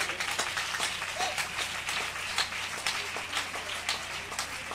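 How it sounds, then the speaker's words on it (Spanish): A congregation applauds during an outdoor evangelical preaching gathering in Pacanal, Guatemala, a quiet, distant, steady patter of many hands clapping with no voices over it. "¡Qué aplausos!"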